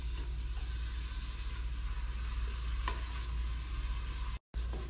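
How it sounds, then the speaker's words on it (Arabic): Minced meat with onion, garlic and wild thyme frying in a pot, a steady close sizzle and hiss running throughout with a few soft stirring scrapes on top. "طبعا حنفضل نقلبه عشان ما نبغى البصل يتحرق"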